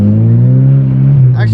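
Turbocharged car engine with an aftermarket turbo setup revs loudly and steadily at close range, a sustained droning hum with rising harmonics, ending with a brief higher whoosh.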